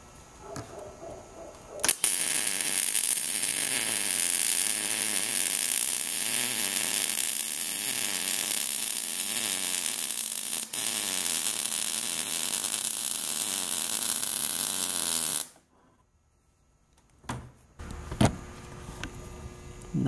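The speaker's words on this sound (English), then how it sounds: "here's the 2 welds laid on with the Miller" Steady crackling buzz of a Miller Multimatic 200 MIG welder running an auto-set 1/8 inch bead, loud and continuous for about thirteen seconds before cutting off, followed by a few faint clicks and handling noises.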